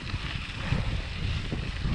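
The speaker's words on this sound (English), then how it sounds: "It's a little bit of a more windy climb." Wind buffeting the microphone on a rainy mountain bike climb, a constant loud rushing roar with low gusty thumps throughout.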